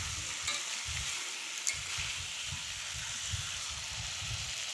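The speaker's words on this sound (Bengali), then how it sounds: "এখন ভালো করে কষিয়ে নিচ্ছি" Chicken pieces are stir-fried with spices in a little oil, a constant sizzle overlaid by regular thudding stirring strokes that repeat at a steady pace, close and moderately loud.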